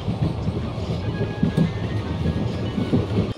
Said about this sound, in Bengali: এই তো এখন স্টেশনে দাঁড়িয়ে আছি, এখনই ট্রেন আসবে